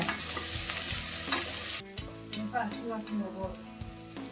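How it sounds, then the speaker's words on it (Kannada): Grated ginger frying with onions in hot tempering oil, a loud dense sizzle with stirring scrapes up close that drops to a softer crackle partway through, with no talking. "ಈರುಳ್ಳಿ ಸ್ವಲ್ಪ ಫ್ರೈ ಆಗ್ತದಂಗೆ ತುರ್ಕೊಂಡಿರೋ ಶುಂಠಿ ಹಾಕೊತಾ ಇದ್ದೀನಿ"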